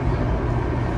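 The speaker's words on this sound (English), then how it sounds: "The train has some considerable speed going now." A SunRail commuter train running at considerable speed through Central Florida gives a dense, steady rumble and roar, heard from onboard, loud and unbroken.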